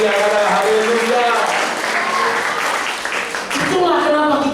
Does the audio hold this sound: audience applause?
yes